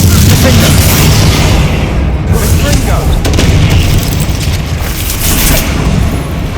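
Dense, loud booming blasts of the Incendio fire spell in Hogwarts Legacy roar continuously, heavy low rumbles layered with crackling bursts and no pause between them.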